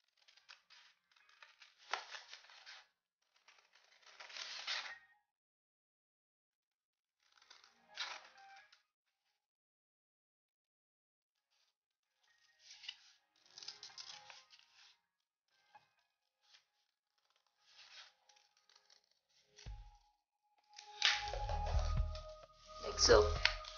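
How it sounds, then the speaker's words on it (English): Scissors snip a paper circle in short bursts of crisp cutting, separated by quiet pauses, followed by a closer rustling clatter near the end. "cut out this circle"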